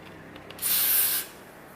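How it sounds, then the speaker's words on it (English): A single short burst of hairspray from an aerosol can, sprayed close onto a lace wig, a bright hiss lasting about half a second between quiet pauses. "I'm gonna put a little bit more hairspray on."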